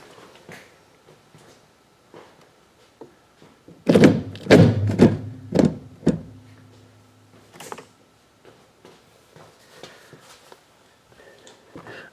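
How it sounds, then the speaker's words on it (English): A brake booster on a 1987 Oldsmobile 442 is pried and cocked sideways, giving a cluster of heavy metallic thunks and knocks in quick succession, then scattered lighter taps and clicks. "I'm going to grab the booster and I'm going to cock it so that the 2 studs on this side pull out a little bit"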